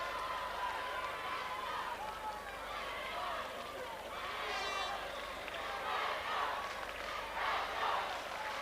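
Hurling crowd at an All-Ireland club match chanting in support of Rathnure, a sustained, distant roar of massed voices that swells toward the end, with no speech over it.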